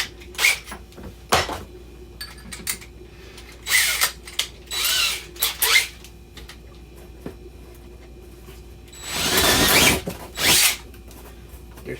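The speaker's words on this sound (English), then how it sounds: "now I need to go ahead and make those holes the size that I want for my anchors" A power drill bores anchor holes into a wall to mount brackets for a wall cabinet, with several short whirring bursts and one longer run near the end, separated by quiet pauses.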